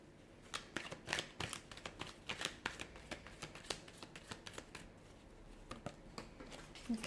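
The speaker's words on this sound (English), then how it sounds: "So we'll give the cards a shuffle" Quiet, close-up riffling and flicking of tarot cards being shuffled, in quick irregular bursts of papery snaps.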